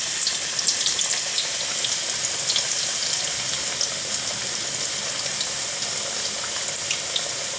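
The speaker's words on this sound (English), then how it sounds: "We're going to fry 3 or 4 pieces at a time." Pieces of bottle gourd fry in hot oil, giving a steady, close hiss and sizzle with fine crackling throughout.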